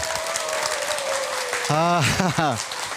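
Audience applause at a KBS Gwangju lecture hall event, a steady crowd of clapping heard throughout while someone speaks over it.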